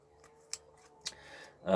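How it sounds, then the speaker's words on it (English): Tiny scissors on a wallet multi-tool card snip twice, two short, crisp clicks about half a second apart, close and fairly quiet, followed by a brief louder rustle. "You get the scissors."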